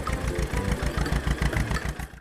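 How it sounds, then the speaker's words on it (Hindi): A tractor engine runs steadily with a pulsing, chugging low rhythm, close and fairly loud throughout, with no voices. "पवन का ट्रैक्टर हवा से बातें कर रहा था।"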